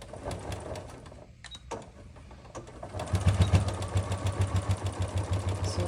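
A sewing machine runs in rapid mechanical bursts while stitching binding onto a stitch case, with a brief pause before a louder, steadier stretch of close-up stitching.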